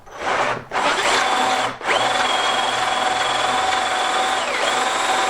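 A drill driver whirs loudly and steadily up close while building a workbench, stopping briefly twice near the start before running continuously with a high whine; no voices.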